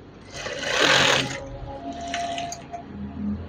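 A sewing machine stitching a wave-style curtain gives a short burst of rapid whirring stitches that swells and stops, then a few softer mechanical clicks and hums, close and alone.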